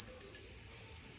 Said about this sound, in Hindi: मेरे पूजा के लिए ये घंटी।